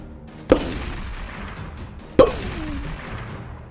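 Two sharp gunshots in a dramatic story, each a sudden loud crack with a decaying echo tail, spaced under two seconds apart over a quiet background.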